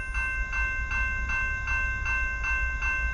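Rhythmic, evenly spaced clacking of a westbound CSX freight train rolling past nearby on track one, with a steady low rumble and a faint sustained tonal ring.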